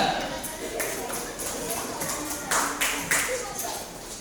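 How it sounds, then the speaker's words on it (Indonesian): A classroom audience claps to welcome group 2 up to present: a short, scattered burst of hand claps at moderate distance, with a few sharper individual claps standing out and no voices over it. "Tepuk tangan untuk kelompok 2"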